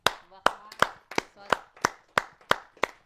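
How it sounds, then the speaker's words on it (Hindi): Sharp hand claps ring out at a Hindi kavi sammelan poetry gathering, about nine sparse, evenly spaced claps over a few seconds, with a voice speaking between the first few. "स्वागत करते हैं आप सबकी जोरदार तालियों से अपने बहुत ही वरिष्ठ कवि कमोडर वीएस बवेले साहब का"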